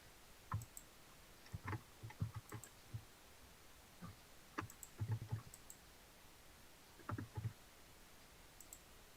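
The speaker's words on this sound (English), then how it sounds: "Someone's typing like my coworker" Someone typing on a computer keyboard, heard faintly in the background as scattered bursts of light clicks and taps separated by short pauses.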